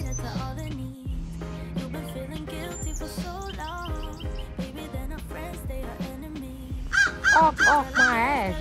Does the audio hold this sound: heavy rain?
no